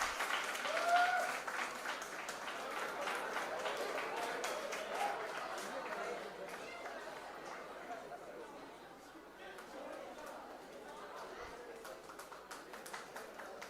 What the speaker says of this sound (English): big round of applause to Mulli Teja.